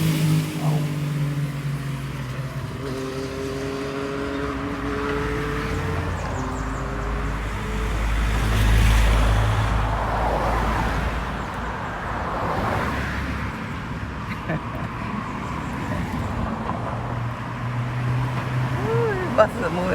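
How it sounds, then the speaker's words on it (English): Buses and cars rushing along the west coast road of Barbados near Sandy Lane, a steady roar of engines and tyres with a louder pass in the middle, while people talk over it. "buses are moving fast"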